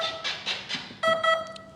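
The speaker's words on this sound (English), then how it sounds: "we're just having to make sense of these beeps based on what the drawing is" An RC plane's electronic speed controller emits a run of short electronic beeps during radio setup, first a few softer pulses, then two sharper, brighter tones close to the microphone, with no talking.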